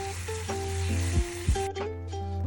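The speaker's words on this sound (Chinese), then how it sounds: "煮到糖水呈现焦糖色时，就可以加入15毫升的热水，并且继续搅拌" Caramelized sugar syrup in a pan bubbles and sizzles as hot water is poured in and stirred for a crème caramel pudding, with brief scraping bursts over soft background music.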